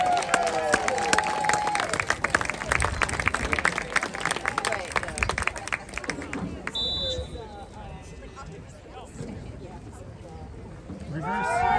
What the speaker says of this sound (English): How about a big hand for our cheerleaders?